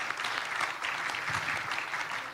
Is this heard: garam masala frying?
no